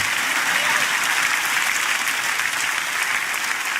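Dense audience applause at a church sermon, steady and sustained throughout, a broad wash of many hands clapping with no pauses.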